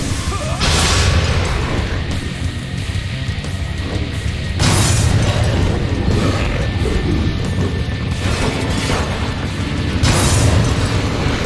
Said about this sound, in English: I just have to shoot him.